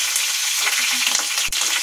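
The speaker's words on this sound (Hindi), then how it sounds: "अब मैं इसमें सरसों के दाने डाल दूंगी, साथ ही मैं इसमें कड़ी पत्ता डाल दूंगी।" Mustard seeds and curry leaves crackle and sizzle in hot oil, a bright dense spitting hiss close by, with a soft thump of stirring near the end and no voices.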